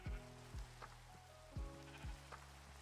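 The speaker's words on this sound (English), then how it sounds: "Here are my sheep." Sheep in the Minecraft video game bleat several times at an uneven pace, short nasal calls standing out over a constant soft rain hiss, with no voices.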